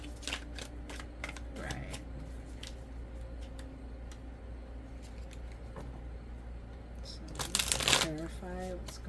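Tarot cards being shuffled by hand, a soft steady riffling that swells into a louder, brisker burst of card flutter near the end, close up over a low constant hum.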